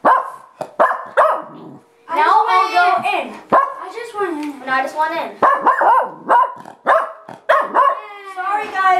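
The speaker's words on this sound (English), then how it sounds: "our dog likes to bark" A dog barks repeatedly indoors at home, close and loud, in sharp bursts and yips mixed with a person talking over the barking.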